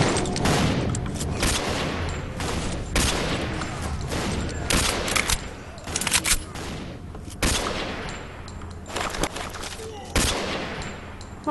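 Rapid gunfire from a zombie fight in the game S.T.A.L.K.E.R.: Call of Pripyat (Misery mod), with dense bursts of loud shots repeating throughout, some separated by brief gaps.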